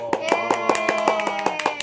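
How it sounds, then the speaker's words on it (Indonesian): A few people clapping hands in a small room, sharp rhythmic claps at a quick even pace, close and clear, with voices talking alongside. "Tepuk tangan heula tuh."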